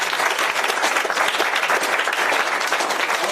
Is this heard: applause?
yes